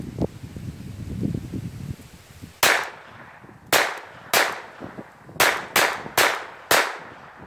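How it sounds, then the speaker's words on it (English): Ekol Volga pistol firing Kaiser ammunition outdoors, seven loud sharp shots in an uneven sequence with short gaps, the last four in quicker succession, each followed by a brief decay, after a stretch of rustling background noise. "We'll shoot a few magazines and let's hope it will be just fine."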